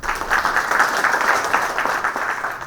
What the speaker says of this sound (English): Everyone, can we have a huge round of applause for the gentleman, please, Dr. Arun.